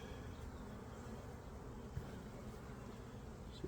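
Honeybees swarm at an open, crowded hive during an inspection for swarm cells, their steady dense buzzing filling the air close by, with a few faint knocks from handling the frames.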